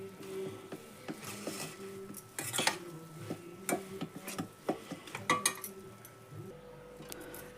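Tempering is mixed into churumuri puffed rice by hand in a metal vessel, giving close, irregular scraping, stirring and light clinks that come in quick bursts, fairly quiet, with no talk.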